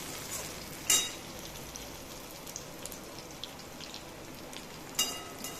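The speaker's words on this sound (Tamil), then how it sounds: "வெங்காயம் நல்லா பொன்னிறமாக வதங்கிடுச்சு." Onions frying in a pan until golden brown for fenugreek curry, giving a faint, steady sizzle with a couple of brief sharper pops or clinks.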